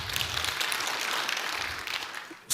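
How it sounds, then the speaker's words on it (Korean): Congregation applauding in church, a dense burst of clapping that holds steady and then tapers off near the end. "박수."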